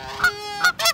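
Three quick goose honks ring out close by, two short and one slightly longer, each loud and nasal against a quiet background.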